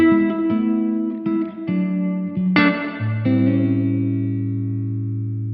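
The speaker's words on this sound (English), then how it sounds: "brighter reverb, longer reverb." Electric guitar played through a Blackstar AMPED 1 amp set to a brighter, longer reverb: a few plucked notes and chords ring out, the final low note sustaining with a long, smooth tail, played alone without talk.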